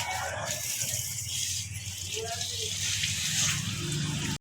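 Drinking water runs steadily from a tap, a continuous hiss and gush with some rattling, while people talk over it throughout.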